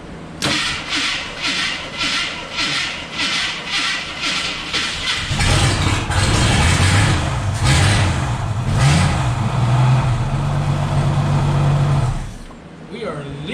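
Derby Eagle engine cranking and sputtering in repeated bursts, then catching and running loudly with uneven revving for several seconds before cutting out; voices talk over it.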